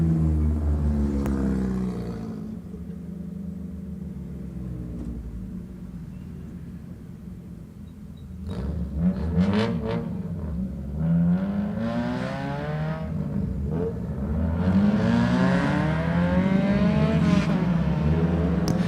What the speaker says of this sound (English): Cars moving out from the grid area now, ready to begin their qualifying session